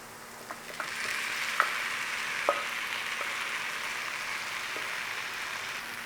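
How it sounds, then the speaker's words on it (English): Lentils for a pie filling fry in a hot pan, a soft, even sizzle running throughout with a few sharp pops and stirring clicks scattered through it, close and fairly quiet. "I'm going to chuck our lentils in here."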